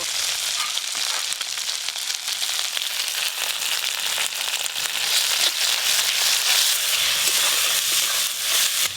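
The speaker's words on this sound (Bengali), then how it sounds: "এবার রাঁধুনি বাটাটা দিয়ে দেবো" Radhuni seed paste fries with spices in a pan, a steady close crackling sizzle that holds for the whole stretch with no talk over it.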